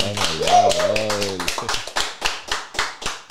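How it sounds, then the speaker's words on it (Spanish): A small audience breaks into applause for basketball player Filiberto Rivera. A voice trails off first, then sparse, distinct hand claps follow in a loose, uneven rhythm, close and fairly loud. "Yo quiero que le demos un fuerte aplauso a Filiberto Rivera"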